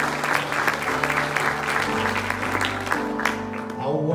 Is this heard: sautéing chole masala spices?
no